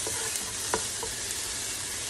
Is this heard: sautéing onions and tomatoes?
yes